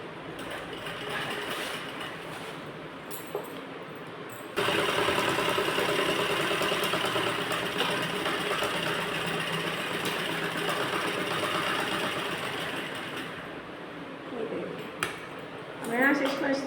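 Sewing machine stitching a belt blouse, a steady mechanical run starting partway in and continuing loudly before tapering off, with a voice talking at times.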